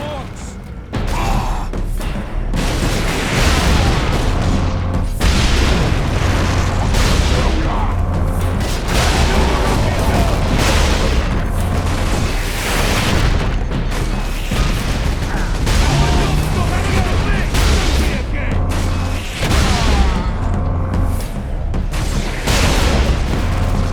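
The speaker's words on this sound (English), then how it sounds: "Orc rocket launchers on the high ground" Ork rocket launchers fire from high ground in the Space Marine video game, heavy booming blasts and explosions rolling one after another over loud continuous battle noise, with voices shouting in the mix.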